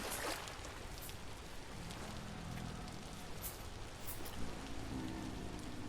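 Steady rain pours down in the survival game Vintage Story near a lake, a dense continuous hiss of drops with occasional sharper splashes and a faint low hum underneath.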